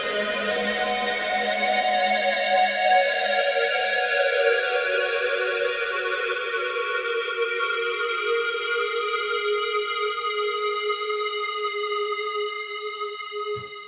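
A synth tone from a Line 6 POD HD Pro guitar processor with particle reverb. Layered harmonic notes are held throughout, shifting partway through, and the reverb adds a dense, shimmering wash that sustains evenly, with no voices.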